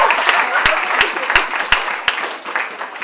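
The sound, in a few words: comedy club audience applause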